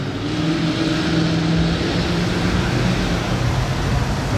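A Ford Crown Victoria with a modified exhaust at the Monaco Grand Prix, its engine a loud, steady, close rumbling drone that holds without pause for several seconds.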